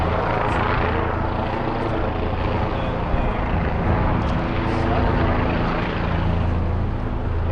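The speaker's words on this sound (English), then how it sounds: "So the helicopter's cruising above us there. It's been going the whole time, just kind of doing some circling." A helicopter circles overhead above a cleared protest zone in Seattle, its steady rotor and engine roar filling the air continuously at a fairly close distance without fading.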